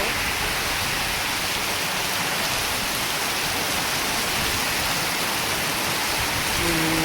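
Heavy rain pours in Mudetha village during the Navratri festival, a loud, unbroken hiss of falling water filling the whole stretch with no pauses.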